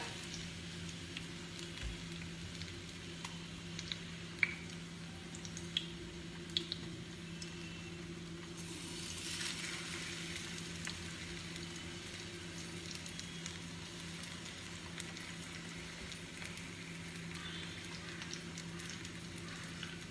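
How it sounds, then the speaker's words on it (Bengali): Pabda fish dipped in batter and frying in oil, a quiet continuous sizzle with faint crackles and drips throughout and a brief louder hiss partway through as pieces are added. "এই মাছগুলোকে নেব, এই ব্যাটারে চুবিয়ে ছাড়বো"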